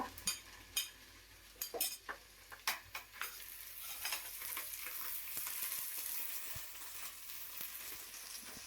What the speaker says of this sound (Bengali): আদা রসুন বাটা দিয়ে ভালোভাবে আর একটু ভেজে নেব পেঁয়াজ